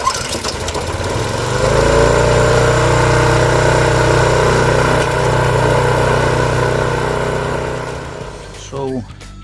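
A repaired lawn mower engine runs on fresh 98-octane gasoline, holding a loud, steady drone close by for several seconds before it fades near the end, with a voice briefly heard.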